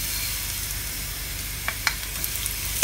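Whole spices hitting garlic frying in a pan for a raw mango chutney, giving a steady faint sizzle with a few sharp crackles and pops near the end.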